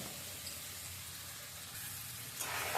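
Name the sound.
fish and onion frying, stirred in pan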